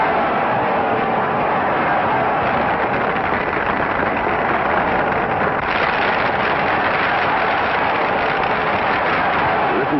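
A steady wash of applause from a large crowd at a contest as the next contestant comes up, dense and continuous, heard from a distance with a muffled, lo-fi quality.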